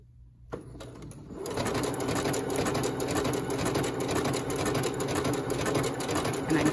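A pedal-driven sewing machine fitted with an overlock foot starts up after a quiet moment and then stitches continuously nearby, a loud, rapid, steady mechanical chatter with no talking.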